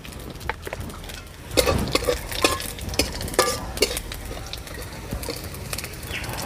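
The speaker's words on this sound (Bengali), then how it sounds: "এবারে দিয়ে দেবো কিছুটা গোটা রাঁধুনি আর কিছুটা গোটা জিরে।" Whole radhuni and cumin seeds dropped into hot oil, sharp crackling pops and spits over a steady sizzle, loudest just after they go in and settling into a lighter fry.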